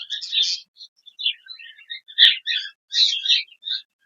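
Rapid, high-pitched chirps and twittering from budgerigars, busy and continuous with brief gaps, fairly close.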